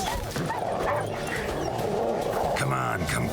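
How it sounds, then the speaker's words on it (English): Dogs in the video game Witcher 3 bark, yip and whimper in quick bursts, fairly close, mixed with game sounds and under a voice talking. "There's the dogs."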